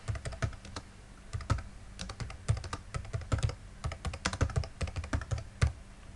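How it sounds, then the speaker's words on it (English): Fast, steady typing on a computer keyboard as a custom summary goes into a metadata field, crisp close key clicks in uneven bursts with no talk. "I'm going to type in my custom summary."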